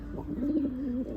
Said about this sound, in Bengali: এই কবুতরটা এখন সচরাচর দেখতে পাওয়া যায় না